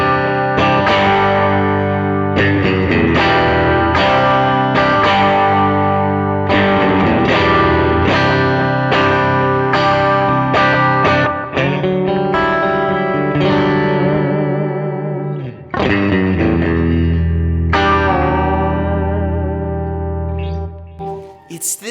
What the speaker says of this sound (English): you get this very like 70s sounding overdrive with it